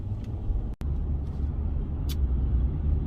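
A noisy car drives past on a road, a steady low engine rumble and roar close by, with a brief dropout partway through and a faint hiss later on.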